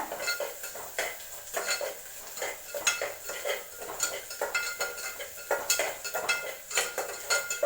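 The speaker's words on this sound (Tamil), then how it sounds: "நல்லா வதக்கிட்டே இருங்க." A spatula scrapes and clinks against a pan in quick repeated strokes while vadacurry kurma ingredients are sautéed, with a light sizzle underneath, close and steady with no talk.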